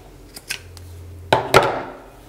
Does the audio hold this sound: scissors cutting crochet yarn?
yes